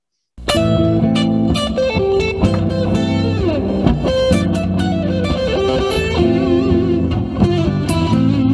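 A busy electric guitar solo with distortion and reverb, fast runs of notes played loudly and continuously without a break.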